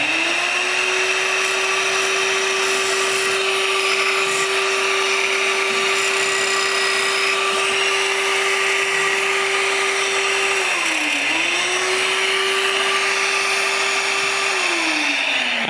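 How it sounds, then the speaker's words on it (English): A small desktop sander runs with a vacuum attachment collecting sawdust while smoothing wooden shelf pieces, a steady loud whine and motor hum that dips briefly in pitch once, continuous with no talk. "So I have a little desktop sander."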